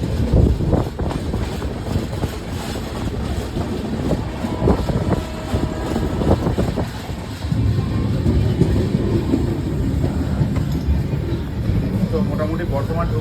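Steady rumble of the moving Sealdah to NJP Darjeeling Mail heard from inside a coach, with rattling and clatter throughout and people talking over the noise.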